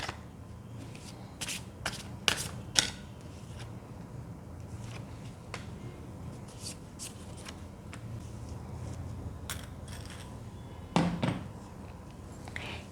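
Tarot cards being shuffled and drawn by hand, heard as a series of sharp riffling flicks and soft slaps that come in irregular bursts against a quiet room.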